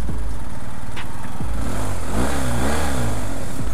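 Boxer engine of a 2021 BMW R1250 GS Adventure motorcycle revving, loud and close, with rising and falling throttle blips over a constant engine rumble.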